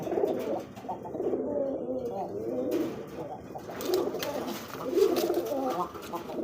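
Rajgolla pigeons, a male and a female kept together, coo close by in repeated throaty rolling calls, with faint background voices.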